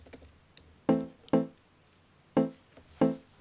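A Logic Pro Wooden Bells mallet synth, EQ'd with the low end cut and the highs lifted, plays four or five quiet, bright plucked notes in a loose rhythm, each with a short decay and a thin, airy tone.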